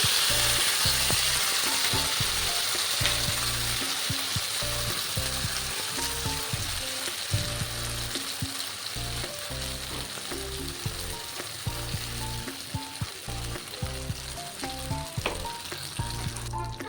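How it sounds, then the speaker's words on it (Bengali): Spice paste fried in oil in a pan for a potato and pointed gourd curry, a loud continuous sizzle with repeated clinks and scrapes of stirring, close and alone. "তারপর কিছুক্ষণ ভালো করে কিছুক্ষণ ভালো করে মশলাটাকে কষাতে হবে"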